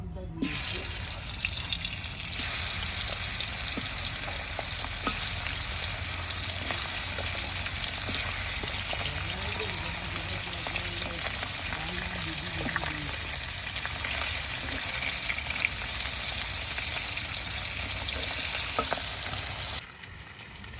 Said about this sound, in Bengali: বন্ধুরা এই যে মাছগুলো আমি হালকা বাজা দিয়ে নিচ্ছি